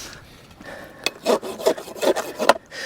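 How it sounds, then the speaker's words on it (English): A farrier works an old rasp across a horse's hoof, four or five rough back-and-forth scraping strokes in a steady rhythm, close and clear with no talking. "This is an old rasp."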